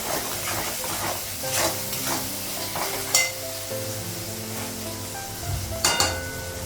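Ground spices, cumin, turmeric and chili powder with salt, frying in a pan with steady sizzling, punctuated by repeated scraping stirs and a few sharp spatula knocks.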